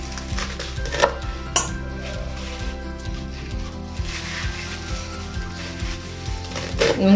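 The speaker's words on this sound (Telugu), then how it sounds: "చిన్న చిన్న కట్ చేసుకోవాలి." A knife chops red radish into small pieces on a board, sharp evenly spaced taps repeating steadily and close by, with a couple of louder knocks.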